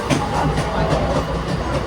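A Mumbai suburban local train bound for CST runs along the tracks, giving a steady close rumble with a faint rhythmic clatter of wheels throughout and no talk.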